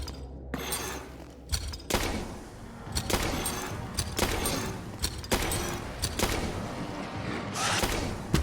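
Gunfire in the horror video game Tormented Souls, a run of about six sharp, loud shots spaced irregularly over the stretch, with a dense mechanical background between them.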